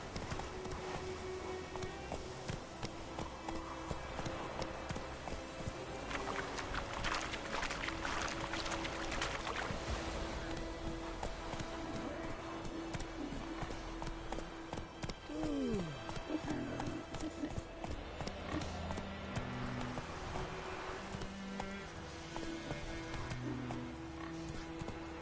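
Horse hooves in The Witcher 3 on PS5 clip-clop in a steady, brisk rhythm throughout, moderately close, over a quiet ambient game background.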